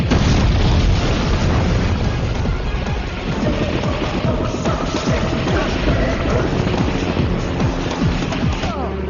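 Grenade blast in the 2004 Bollywood action film Main Hoon Na, a loud rumbling explosion with dense crackling debris and booming layered effects sustained throughout.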